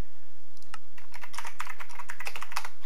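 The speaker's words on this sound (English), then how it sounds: "we're gonna have to type game mode real fast" Fast typing on a computer keyboard while entering a game mode command in Minecraft, a close burst of quick, irregular key clicks with no talking.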